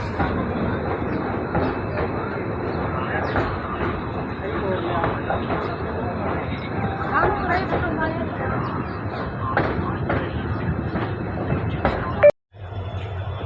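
A train pulls into Gidderbaha station with a continuous rumble and clatter of railcars, rattling steadily under a voice, before cutting abruptly near the end.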